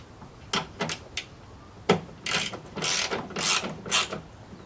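Nuts being tightened onto a plastic license plate cover, giving a run of sharp ratcheting clicks and short scraping bursts in an uneven rhythm, close and fairly loud, with no talk.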